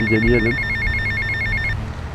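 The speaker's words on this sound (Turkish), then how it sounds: "Ya bu telefon nasıl susmuyor" An electronic telephone in the GTA Vice City video game rings in a steady repeating pulse, a loud bright trill that stops near the end, while someone speaks briefly over its opening.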